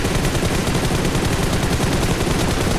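Dense, loud, continuous gunfire in the mobile battle royale game BGMI, rapid overlapping shots forming an unbroken barrage for a few seconds.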